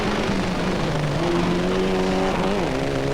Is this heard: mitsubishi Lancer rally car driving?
yes